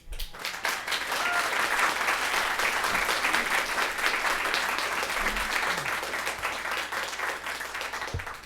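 An audience at a city council meeting breaks into sustained applause, a loud, dense wash of clapping that swells quickly and holds steady for several seconds before tapering off, with a few cheers mixed in.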